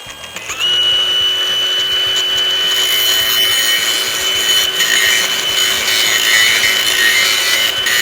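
An angle grinder sharpens a factory-new mower blade. A loud, steady whining grind with a sustained high ring starts after a brief quiet lead-in and runs continuously to the end, with no talking.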